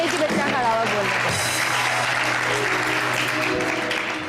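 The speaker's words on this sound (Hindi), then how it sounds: "पहले तो उस बच्चे के लिए बहुत सारी तालियां बजाएं" An audience at a televised birthday special for Quaid-e-Azam applauds someone speaker, with sustained, loud clapping throughout and voices talking and calling out over it.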